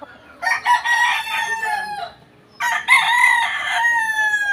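A gamefowl rooster of the Sweater bloodline crows twice, loud and close, each crow a drawn-out harmonic call with a short gap between them.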